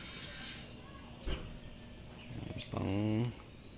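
Racing pigeons at a loft give a brief low cooing call near the end, with a faint bird chirp and scattered rustling earlier over a quiet background.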